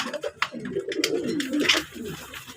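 Several pigeons kept in a loft coo in low, continuous overlapping murmurs, fairly close and steady, with a few brief sharper bird sounds mixed in.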